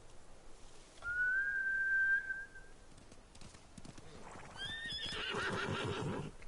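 Samurai horses in the video game Ghost of Tsushima give a long clear whinny, then a second neigh comes over a flurry of clopping hooves and rustling movement, loud and close.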